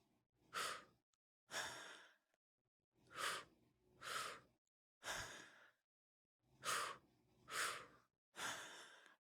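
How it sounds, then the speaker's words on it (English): Three-step mouth breathwork: eight loud, close breath sounds in pairs and a trio, each a short open-mouth inhale or exhale, drawn into the low belly and then the chest, with brief silences between them. "It is done all through the mouth, and you're breathing into the low belly, you breathe into the chest, and then you exhale."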